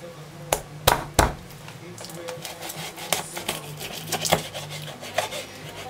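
A knife chops a chicken leg into pieces on a board, giving several sharp, irregular cuts up close, with kitchen rustling in between, for a Jamaican sweet and sour chicken.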